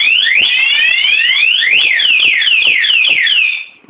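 A CBR Run Alarm device sounds a loud, continuous electronic siren of rapidly repeating sweeping tones, steady for several seconds before cutting off abruptly at the end, with no talking.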